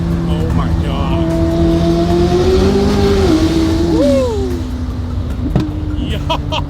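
A McLaren 600 supercar accelerates hard from inside the cabin, its engine note climbing and shifting with a sharp change near the end, while excited occupants talk over it.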